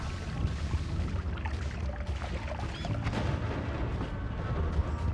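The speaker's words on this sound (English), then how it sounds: "Does certainly make more explosions." Spell explosions in the video game Noita rumble on as a dense, continuous wash of booming crackles and bursts, steady and fairly loud throughout, with no clear pauses.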